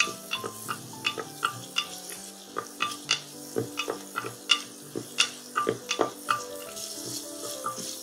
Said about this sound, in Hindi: प्याज इनको हमने एक मिनट तक लगातार चलाते हुए भूनना है तेज आंच में